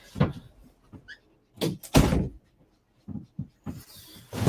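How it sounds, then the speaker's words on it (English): A door swung shut indoors with a couple of solid thuds and bumps among scattered handling noises and a dog's movement nearby. "I gotta close the door now."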